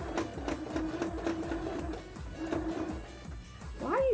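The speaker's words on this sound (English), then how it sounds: "I'm using the wheel. I'm manually sewing." A sewing machine turned slowly by hand with the hand wheel while doing embroidery, a soft continuous mechanical whir with faint repeated ticks, close up, and a brief voice-like squeak at the end.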